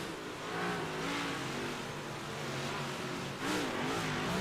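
Big block modified race car engine on the throttle climbing a hill, a loud sustained roar with rising and falling pitch as the revs climb, then a fresh surge of throttle near the end.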